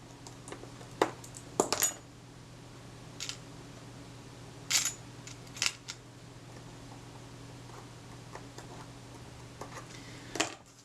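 Small screws being run in to hold the mechanism plate to the case of a Retina IIa camera: sparse, faint metallic clicks and ticks, a few sharp little taps spaced apart over a quiet background hum.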